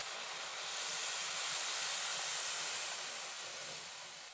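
Hot milk poured into frying carrot halwa in a pan, giving a steady, dense hiss of sizzling that swells and then eases slightly, close and continuous with no talking.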